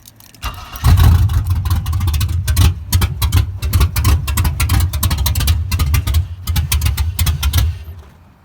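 A swapped OBS 4x4 truck engine with longtube headers fires up and runs loud and close, its rough, uneven idle stumbling and surging with irregular pulses throughout.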